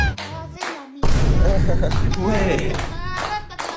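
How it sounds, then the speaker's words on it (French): Children clapping at a birthday party, a burst of hand claps that starts partway through and mixes with chatter and kids' voices talking over it. "Les copains et les copines, on applaudit pour l'anniversaire de Tess."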